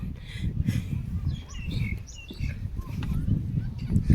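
Birds chirp and call in short bursts in a nature park, rising over steady outdoor background noise as people talk nearby.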